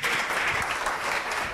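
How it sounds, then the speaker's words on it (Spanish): An audience at a business streaming event applauds a speaker, a short, dense and steady burst of clapping with no talk over it. "un fuerte aplauso para José Fachín"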